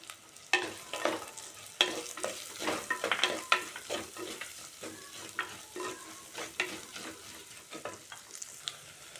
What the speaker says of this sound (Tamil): நல்லா வெங்காயம் வதங்கிடுச்சு